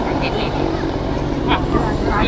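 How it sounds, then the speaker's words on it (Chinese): A helicopter descends with a steady, loud engine and rotor roar that fills the whole stretch without letting up, and faint voices may sit underneath it. "直升机下降。"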